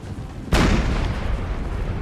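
A single loud cannon blast in the strategy game Empire: Total War, a sharp booming report that rolls into a long rumbling tail of battlefield noise, with no talk.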